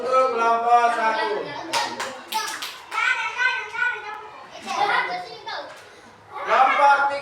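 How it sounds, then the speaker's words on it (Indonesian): Schoolchildren in a classroom clap for group 1 of their class, with sharp bursts of hand claps scattered among children's excited chatter and voices that carry on throughout. "Tepuk tangan untuk kelompok 1"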